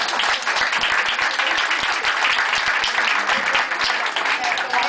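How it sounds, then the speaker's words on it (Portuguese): Audience applause at a book launch of Barbara Heliodora's critiques: a sustained, loud burst of crowd clapping with crisp individual claps standing out, steady from start to finish. "Palmas pra ela."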